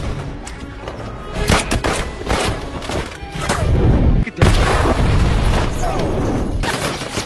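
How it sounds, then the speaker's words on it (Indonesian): In an action film scene, gunfire and a car exploding after being shot make a dense, loud barrage of booms and thuds with a rumbling blast. "Sayangnya mobil mereka harus meledak akibat tadi tertembak."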